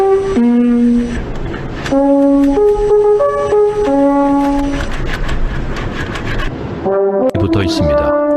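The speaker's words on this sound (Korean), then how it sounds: "방금 들은 것은 관악기의 끝이 나팔꽃처럼 벌어졌을 때 소리입니다" A brass instrument with a flared, trumpet-like bell, such as a French horn, plays a melody of sustained, steady notes in changing pitches. The tones are close and fairly loud, with a richer chord of layered notes near the end.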